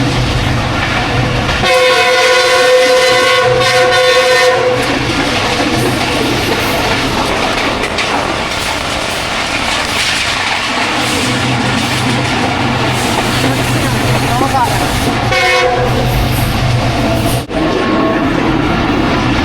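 Jaffar Express train in Pakistan sounding its horn in repeated long blasts, with rail car rumble and clatter running throughout, loud and close.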